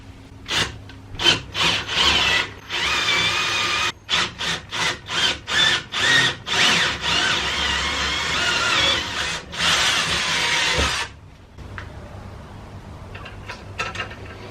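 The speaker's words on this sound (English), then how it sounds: "I will drill through both sides of this just in case the bolt ends up, you know, going all the way through." A power drill with a small bit bores through both sides of a metal pod light mount for an M8 bolt. The grinding comes in a string of short, loud pulses, then one long push, before tapering to faint scraping.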